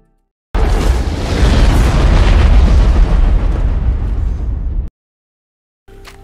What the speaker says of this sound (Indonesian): Ledakan besar pun terjadi, menyebabkan beberapa pesawat hangus terbakar.